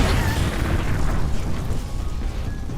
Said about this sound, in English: Until you see that they can make explosions with their hands